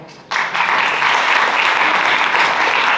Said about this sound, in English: An applause to Tarek.